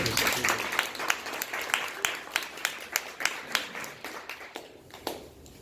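A small audience claps after a business presentation, a thin scattering of hands with distinct rhythmic slaps that fades toward the end, while someone talks over it.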